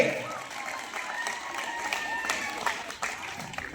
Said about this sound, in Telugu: అందరు క్లాప్స్ కొట్టండి, గట్టిగా క్లాప్స్ కొట్టాలి అమ్మా, ఇంకా గట్టిగా క్లాప్స్ కొట్టండి.